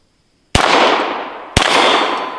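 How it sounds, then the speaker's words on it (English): Two sharp gunshots from a Ruger Mark IV .22 firing at tin cans outdoors, each a loud crack about a second apart, followed by a short ringing decay. "Got to shoot a tin can or two if you have a 22, right?"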